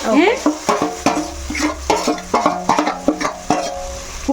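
A ladle stirs stuffed eggplant curry gravy in a pot, giving repeated scraping and clinking strokes against the metal in a steady rhythm, close and fairly loud.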